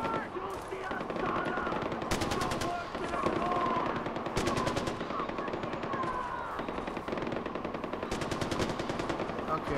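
Gunfire in Far Cry 4 comes as dense, sustained bursts of automatic weapons. Rapid rattling volleys overlap continuously across the clip at a steady, fairly loud level within a busy game soundscape.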